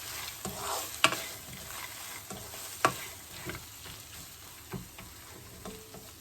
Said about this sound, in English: And here I've got roasted peanut, so add that peanut.